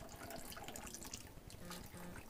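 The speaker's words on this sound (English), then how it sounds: "And we just pour in our martini." Liquid pours steadily from a cocktail shaker into a glass rimmed with melting Jolly Rancher candy, a soft continuous trickle and splash throughout with no talking.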